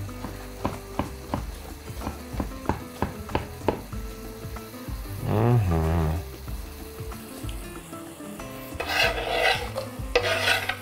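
Ingredients for a beef and bean soup fry in a pan, opening with a run of rhythmic utensil knocks, then a rough scraping stir and later bursts of sizzling as more is added.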